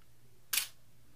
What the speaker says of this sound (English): That is the mirror bouncing up the way. And then once the vibrations of that have calmed down, it then opens the shutter.